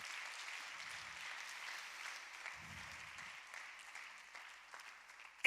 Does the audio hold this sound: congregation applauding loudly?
yes